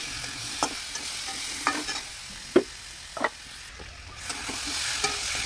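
Spice paste with turmeric, cumin and coriander powder fries in a pan with a soft, steady sizzle, broken by a few scattered scrapes and taps of a stirring spoon.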